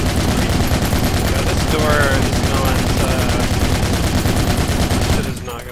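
Sustained automatic gunfire in the military shooter Project Reality, a dense, loud, continuous burst of rapid shots lasting several seconds before cutting off near the end.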